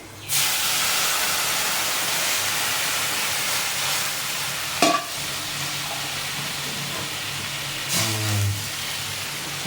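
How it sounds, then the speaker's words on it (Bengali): Hot water poured into a simmering curry in a pan, a loud sudden hiss and sizzle that settles into steady steaming bubbling, with a couple of brief clinks and stirring sounds. "গরম জলটা দিয়ে দিলাম।"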